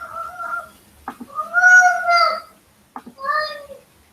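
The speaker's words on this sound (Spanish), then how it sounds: "Y eso que escuchan de fondo es mi gato" A house cat meows indoors, several drawn-out, wavering yowls with short gaps between them, fairly close and loud, with a brief clatter between calls.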